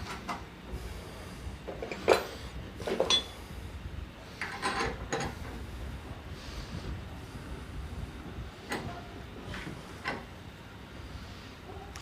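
A homemade wooden bench vise for woodworking is tightened, giving scattered close mechanical clicks, ticks and creaks of wood and screw at an uneven pace, fairly quiet and alone.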